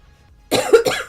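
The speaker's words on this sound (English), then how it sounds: "I still have this nagging cough" A single harsh cough from a lingering, persistent cough bursts out loud and close after a brief silence, breaking into two rough spurts.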